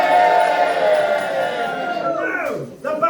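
A crowd at a Minstead performance group fable show cheers for the dragon, a sustained, loud wash of voices that dips briefly near the end before swelling again.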